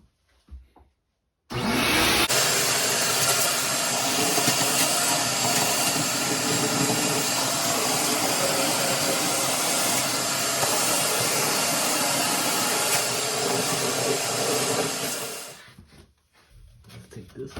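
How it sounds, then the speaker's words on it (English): A dry vac shop vacuum switches on with a sudden onset and runs loud, steady and close with a whining roar for about thirteen seconds, then cuts off and winds down. "These dry vacs are loud, so if you have crappy hearing like I do, I recommend hearing protection."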